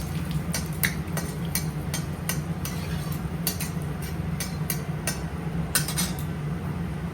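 Dried chilli pieces and bay leaves temper in hot oil for a Bengali fish curry. A steady, soft sizzle runs throughout, with light metallic clinks of a spoon against the pan at irregular intervals.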